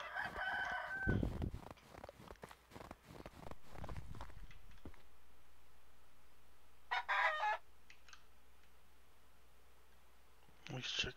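In the farming game Medieval Dynasty, a rooster crows loudly near the start and chickens cluck in short bursts later, with clicking sounds scattered around them and a quiet stretch in between.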